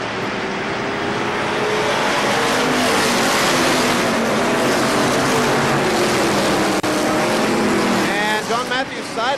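A pack of race cars at KilKare Speedway in 1999 accelerating together off a green flag start, a dense, loud, continuous roar of many engines that holds steady throughout.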